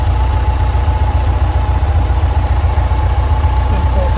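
The air-cooled engine of a 1965 Volkswagen Type 2 Splitscreen van idles close by, a loud, steady, even putter that never changes pace.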